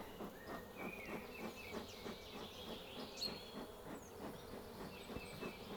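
A honey bee swarm buzzing around a cone trap outdoors, a faint, continuous droning hum with a wavering, pulsing texture and occasional brief higher whines from individual bees passing close.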